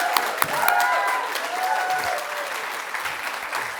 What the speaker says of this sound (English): please join me in a round of applause for our magnificent MC